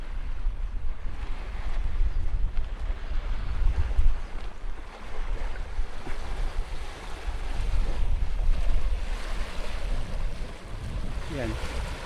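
Rough sea waves wash and surge continuously off Malapascua Island, with heavy low rumble and wind buffeting the microphone throughout.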